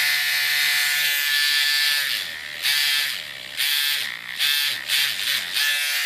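An Arizona Tattoo Supply Firefly tattoo machine, gold and red, runs with a steady high-pitched motor whine that dips and surges in several short bursts as it revs up and down.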